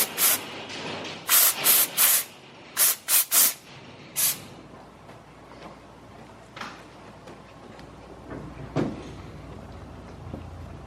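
Steamer puffing on paint protection film on a Lamborghini GT3RS during installation, a series of sharp close hissing steam bursts in quick clusters early on, then quieter sparse hisses over faint background noise.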